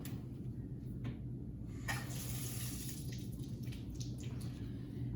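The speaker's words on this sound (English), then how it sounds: "I just rinsed off the thermometer" A lab thermometer being rinsed under a running tap, with water pouring steadily into a sink at close range and a few brief knocks and splashes over the flow.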